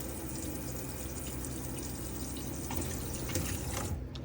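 Hot water running steadily from a boiler tap in a Geist Touring 65 motorhome, a continuous close hiss and splash that holds even for the whole stretch, no voices.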